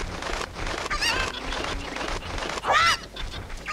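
Chickens in Zelda: Ocarina of Time's Kakariko village squawk and cluck in loud, honking bursts, two sharp cries standing out above a busy game soundscape, with no talk.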